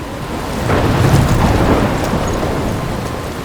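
A thunderstorm in the video game Life is Strange, with a low rumble of thunder swelling and fading over dense, steady rain and wind, close and loud with no voices.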